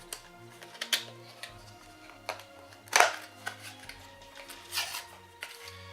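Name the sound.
unboxing New Nintendo 3DS XL Hyrule Edition console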